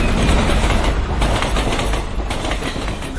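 A mail train rushes past close by, a loud, steady roar of rolling wheels and rattling carriages with faint clickety-clack filling the whole moment.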